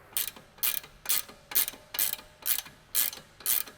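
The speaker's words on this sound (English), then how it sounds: "grab the wrench, ratcheting wrench, if you have it, an 8mm socket to hold the end link into place while you loosen." A ratcheting wrench with an 8mm socket clicks through eight quick, evenly spaced strokes, each a sharp burst of metallic ratchet clicks, up close and alone, while loosening an end link on an S197 car.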